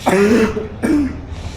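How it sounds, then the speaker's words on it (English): Two rough, throaty coughs from someone with a cold, close to the microphone, one after the other, with a short pause between them. "Smoker's cough."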